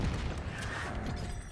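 Frag grenade explosion in Call of Duty, a dense rumbling boom that spreads into a loud, sustained low roar across the brief moment.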